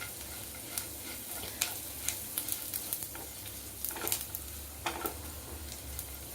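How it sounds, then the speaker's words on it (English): Upma ingredients roast in hot oil in a pan, a steady close sizzle broken by light scraping and ticking as they are stirred, with no talking. "but now roast these in the oil"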